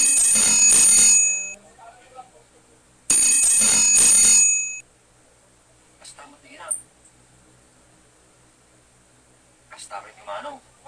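A bell rings loudly in two bright bursts a few seconds apart, each with a lingering shimmer, followed by faint scattered sounds and quiet voices in the background.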